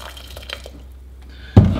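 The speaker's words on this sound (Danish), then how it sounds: "Så jeg har forberedt varmt vand i en elkedel, og det hælder vi bare ud over." Hot water from an electric kettle splashes onto chopped red cabbage in a bowl, a sudden loud gush of pouring liquid starting near the end after quiet room hiss and faint clinks.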